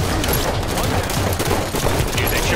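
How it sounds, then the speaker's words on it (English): Dense Halo 5 firefight with a grenade thrown amid continuous loud gunfire and explosive bursts, heard close without a break. "Throwing a grenade"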